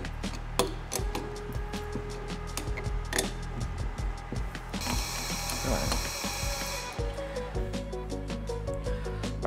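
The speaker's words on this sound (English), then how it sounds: "So we can go ahead and slide this on and get all of these nuts started." Mechanical ratcheting and clicking as nuts are started and tightened on a Toyota Tundra leveling kit, rapid metallic clicks in bursts with a steady whirring stretch midway, close and fairly loud.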